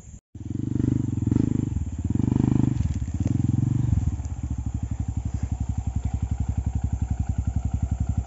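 A trail motorcycle on a rough off-road ride in Tanjung Enim revs hard and loud, with the engine rising and falling, then settles into a rapid, pulsing idle close by.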